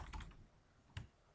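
Keystrokes on a computer keyboard as a time value is entered into an Excel spreadsheet, a few quick taps near the start and one sharper key press about a second later, close and fairly quiet with no talking.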